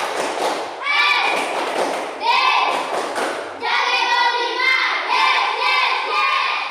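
Children in a classroom perform the tepuk semangat clapping chant, shouting together in loud rhythmic bursts punctuated by thumping claps, several repeated phrases in quick succession.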